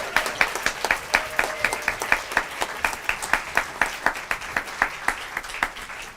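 After a Takoma Park Community Band afternoon concert of Latin music, the audience claps in a steady, rhythmic beat, regular sharp claps repeating alone at moderate distance throughout.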